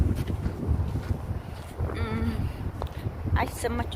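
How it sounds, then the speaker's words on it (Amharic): Wind gusting outdoors at night, a continuous low rushing roar buffeting the microphone, with a voice talking over it. "አቤት ንፋሱ ደስ ሲል ቢታዩት።"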